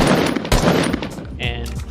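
Rapid video game gunfire shooting at a built ramp, with bursts of loud cracking shots followed by a brief high-pitched structure-break tone.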